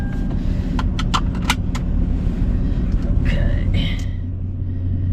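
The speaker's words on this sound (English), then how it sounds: "Heat the truck up." A truck engine idles while warming up, a steady low rumble throughout with clicks and a few short rattles, heard from inside the cab; a person briefly speaks over it.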